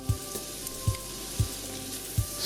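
Khawaj spice being stirred into a sizzling Somali meat sauce (suugo suqaar), with a steady fry hiss and four soft, evenly spaced scraping strokes of a spoon in the pan.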